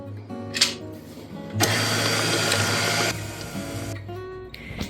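An electric mixer beats cookie dough with added egg yolks and vanilla, a steady motor whir with a denser, louder stretch in the middle, close up with no talk.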